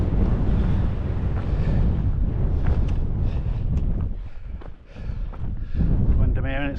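A strong gale batters an open fell in the Lake District near Troutbeck, roaring and buffeting loudly against the microphone without letup, with a person talking under the wind.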